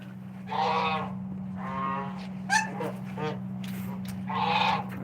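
Birds in a backyard flock call in several loud, separate honking bursts over a steady low hum, with a brief voice in between.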